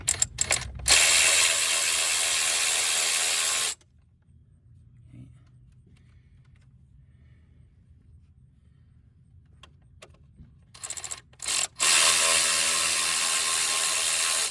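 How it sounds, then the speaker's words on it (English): A ratchet cranks loose the lower control arm bolts on a passenger-side 2004 Chevy Malibu, bursts of rapid close clicking at the start and end with a quiet gap between. "Let's get these bolts up here out of here real quick."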